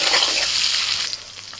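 Peeled boiled eggs, salted and tinted with turmeric, sizzle steadily in hot oil in a pan, a dense continuous frying hiss that eases slightly toward the end.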